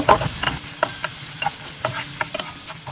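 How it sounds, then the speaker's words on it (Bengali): Onion paste and green chilies frying in oil crackle and sizzle loudly up close, with repeated spatula scrapes and knocks against the pan. "আমি পেঁয়াজ আর কাঁচামরিচ ভেজে নিচ্ছি"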